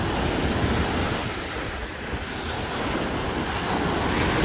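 Steady roar of ocean surf breaking on a beach at Bal Harbour, Miami, with gusty wind buffeting the microphone throughout; no voices.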